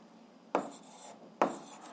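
An algebra expression is written out by hand, heard as two sharp tapping strokes with soft scratching after each one. The strokes are faint and close, over quiet room tone.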